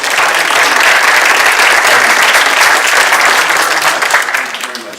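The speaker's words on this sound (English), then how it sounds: "Can we have a nice round of applause for..." A school district audience claps in dense, loud applause that holds steady, then begins to fade near the end.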